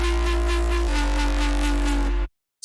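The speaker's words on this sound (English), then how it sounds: "the sort of response bass here is almost a duplication of the patch that we used in the call section" A jump up drum and bass response bass synth patch plays alone, a loud sustained buzzy bass tone with a heavy sub layer and a wobbling pulse, cutting off abruptly just before the end.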